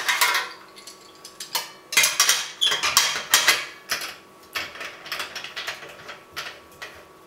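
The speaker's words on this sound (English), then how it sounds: "Then I put the silicone gasket on the boiler and then the column on. and I close it with a clamp." Metal clamp being fitted and closed around the boiler and column of a distiller over a silicone gasket makes a series of close clanks, clicks and ratcheting metallic rattles in irregular bursts, with no speech.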